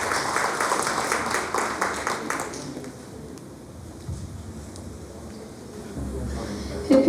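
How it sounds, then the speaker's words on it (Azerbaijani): An audience applauds a singer as she is welcomed on stage, the clapping loudest at first, then thinning into a quieter room murmur. "Gəlin onu alqışlarla qarşılayın."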